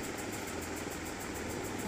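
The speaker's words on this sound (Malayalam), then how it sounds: "നമ്മൾ രണ്ടുപേരും കൂടി സ്കൂട്ടിയിൽ പുറത്ത് പോവുക" A scooter engine running at a steady, even hum with a faint rhythmic pulsing, close and continuous, with no talking.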